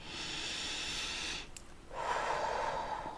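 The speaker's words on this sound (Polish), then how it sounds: "zrób parę głośnych oddechów" A person takes a few loud, deliberate breaths during a guided meditation, a long airy inhale followed by a rushing exhale after a brief pause, close and alone.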